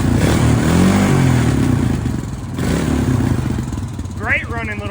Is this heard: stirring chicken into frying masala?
no